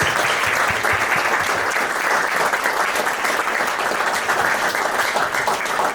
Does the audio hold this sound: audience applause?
yes